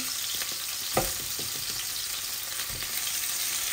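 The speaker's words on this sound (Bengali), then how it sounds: "শুধু জিরা ফোড়ন দিব" Cumin seeds tempered in hot oil for a rohu fish curry, a steady close sizzle and crackle with a few sharper pops, no talking.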